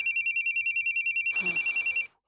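A mobile phone rings with a rapid, regular electronic trill repeating about a dozen times, then cuts off abruptly, with some rustling near the end.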